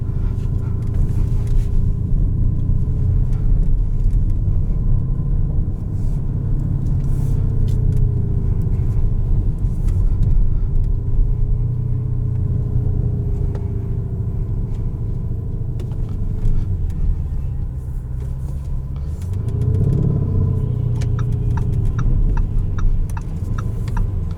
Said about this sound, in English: I'm driving a Lamborghini.